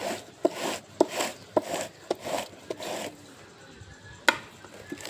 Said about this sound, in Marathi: तर चला किसणीने मी खिसून घेते. काही बारीक खिसायचं, काही मोठं खिसायचं.